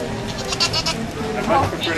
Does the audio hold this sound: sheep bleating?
yes